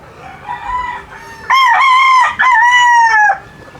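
A gamefowl stag rooster crows loudly and close, a drawn-out two-part call with a brief break in the middle, preceded by faint background clucking.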